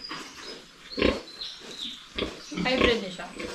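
Pigs grunt and oink on a farm where sows have just given birth, with short low snorts and a few louder grunting bursts nearby, mixed with faint bird chirps and someone talking.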